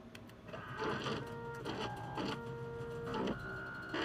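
A 3D printer in the video game Watch Dogs 2 prints an RC drone, giving a steady whirring, stepping mechanical sound with tonal motor pitches that shift in short bursts, loud and close with no talking.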